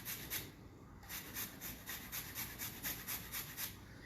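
A lime is rubbed against a zester for key lime bars, a quiet rhythmic rasping of repeated short scraping strokes, soft and close with no talk.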